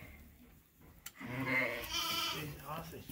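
Sheep and lambs bleat on a cold winter sheep farm, a few close calls that rise out of low barnyard noise and carry on for about two seconds.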